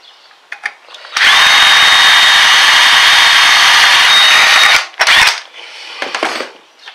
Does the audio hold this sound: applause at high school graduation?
no